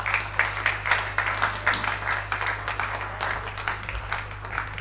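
A crowd at a commissioning ceremony in Uganda applauds with dense, continuous clapping that swells and ebbs slightly, filling the whole stretch.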